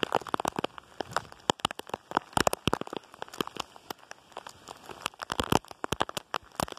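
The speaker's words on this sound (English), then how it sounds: "Here they come. Get the hailstones." Hailstones in a thundery UK storm pelt down in dense, irregular sharp ticks and clatters, a steady close patter of hard impacts with no talk.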